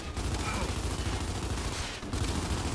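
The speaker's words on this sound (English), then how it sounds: "They're lancering the heck out of me." Lancer rifle fire in Gears 5 rattles continuously in a dense, steady stream of rapid shots, briefly dipping before resuming, fairly close and filling the scene with faint talk beneath.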